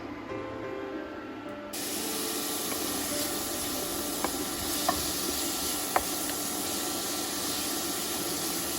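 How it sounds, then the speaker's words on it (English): Sausage and vegetables frying in a pan give off a loud, continuous hissing sizzle that starts abruptly after a quieter opening, broken by a few faint clicks. "I started the sausage first and let that brown almost all the way through, not quite though, and then I threw the vegetables in"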